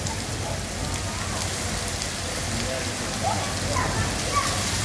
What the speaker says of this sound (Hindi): सख्त खतरनाक बारिश है दोस्ता